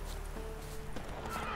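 Roach, the horse in The Witcher 3, trots up in the game world, its hooves clip-clopping faintly and a soft whinny rising over a low, steady ambient hum, with no talking.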